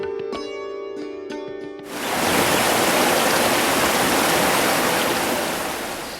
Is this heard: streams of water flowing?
yes